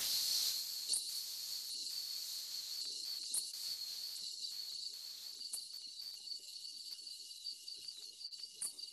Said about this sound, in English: Those are tree crickets in the background, and the katydid is just making one repeated chirp.